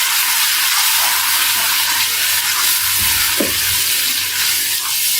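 Spice masala of turmeric, coriander powder, crushed red chilli and garam masala being stirred as it fries in a pan, giving a steady, loud sizzle and hiss throughout with faint scraping.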